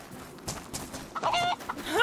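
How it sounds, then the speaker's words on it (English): Chicken clucking in the video game DayZ, short clucks and squawks over a low ambient game background, moderately close. "Snuffles chicken, I hear a chicken."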